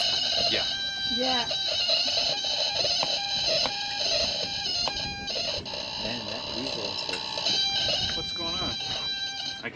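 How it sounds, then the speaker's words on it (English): An alarm buzzer aboard a sailboat during engine trouble drones steadily with tonal, bleeping layers, loud and persistent throughout, while people talk over it. "I can't hear anything over the buzzer, so I can't tell you."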